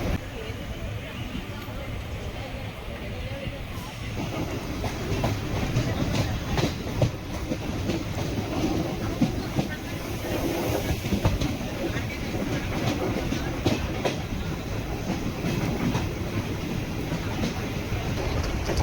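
A crowded passenger express train running from Kollam to Chennai Egmore rumbles steadily on its rails, with a constant low roar and faint clickety-clack of the wheels, heard from inside the coach beneath voices talking.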